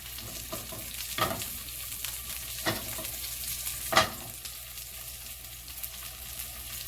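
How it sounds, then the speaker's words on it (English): Tuna steak searing in a hot skillet: a steady, quiet sizzle runs throughout, broken by three brief louder crackling bursts as the fish is turned or pressed. "I'm going to sear it on all 4 sides."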